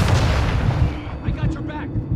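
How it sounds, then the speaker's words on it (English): A stun grenade goes off in Call of Duty: Modern Warfare II as a heavy, loud blast with a rumbling low tail that fades over about a second, leaving faint game chatter and effects behind it. "Throwing flash grenade! Stun grenade out!"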